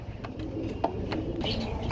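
Mondain pigeons at a pigeon farm give a few soft, low coos in a brief stretch, fairly close, with a faint voice in the background.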